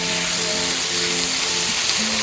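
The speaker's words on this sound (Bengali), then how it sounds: "পেঁয়াজ খুব ভালো করে ভাজা হয়ে গেছে" Chopped onions frying in hot spiced oil in a pan, a steady close sizzle that runs without pause and with no talk.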